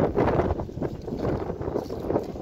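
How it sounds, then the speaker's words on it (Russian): Gusty, cold wind buffeting outdoors on the Yalta seafront after a hurricane, with a steady rushing roar and rumbling bursts, no voices. "Ветер холодный."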